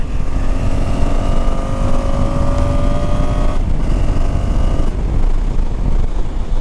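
A motorcycle on a short road trip rides over road humps, its engine droning loudly and steadily with a brief dip in pitch midway, accompanied by wind rumble up close.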